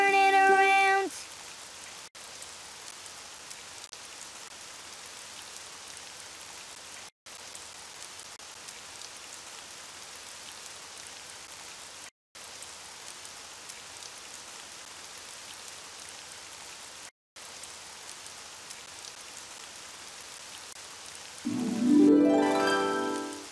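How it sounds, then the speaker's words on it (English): Steady rainfall in the Daniel Tiger's Neighborhood children's video game, a continuous soft hiss of drops running unbroken for about twenty seconds, with brief game music and tones at the start and end. "Oh, it's raining outside."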